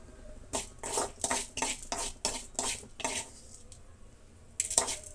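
Spoon or spatula clattering and scraping repeatedly in a metal pan while spices fry in a little oil, with rhythmic stirring knocks, a pause, then more clinks at the end.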